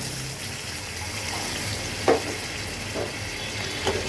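Water poured into a sizzling pan of well-fried spice masala for a Bengali singi fish curry; a steady, close frying hiss runs throughout, with a few brief splashy bursts as the water hits the hot oil.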